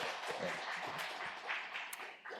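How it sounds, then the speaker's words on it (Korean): Church congregation applauding the praise team during a Sunday worship service, a steady wash of many hands clapping together, fairly faint and even throughout. "격려하는 차원에서 우리 아까 찬양팀들 위에서 한번 박수 한번 해주셨으면 고맙겠습니다"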